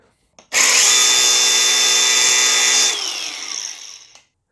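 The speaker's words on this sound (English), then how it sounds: "I will cut the head of the bolt on a 90 degrees, just like that" A power tool with a cutting disc slices across a bolt head on a Mercedes W210 E220 CDI, a loud steady high-pitched whine held for about two seconds before winding down and stopping.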